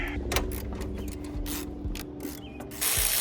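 Ratchet undoing T30 bolts on the turbo inlet of a BMW 540i during a water pump job, rapid close metallic clicking in short bursts with brief pauses, no talking.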